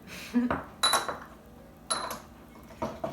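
Utensils clink and scrape against a bowl while tossing a tabouli herb salad, a few sharp metallic knocks over a soft background, close by.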